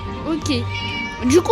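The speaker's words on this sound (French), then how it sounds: "Mais Misty a enfermé un chat dans une cage." A cat locked in a cage in the video game Scary Teacher 3D gives a few short meows, close and clear, mixed with a person speaking French.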